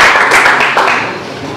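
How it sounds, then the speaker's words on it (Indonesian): Classroom applause for a fellow student, a dense wash of many hands clapping together, loud and close, tapering off slightly toward the end. "kasih tepuk tangan untuk teman kita ya"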